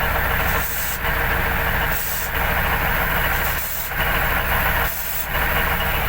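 A T-150 tracked tractor's engine runs steadily after repair, a continuous loud rumble with periodic rises and dips in intensity, close by and without talk.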